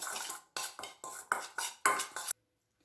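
A spoon stirs chili powder, amchur and salt in a bowl with six quick, crisp scraping strokes in a steady rhythm, close and clear, then it stops into silence.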